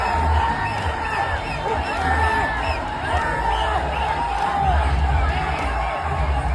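A crowded Tamil Nadu cinema hall erupts in wild cheering for a Suriya film, with whoops and shouts that carry on steadily throughout, dense and loud.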